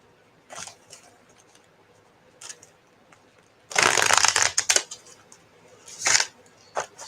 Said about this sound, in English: Sorry about the shuffling.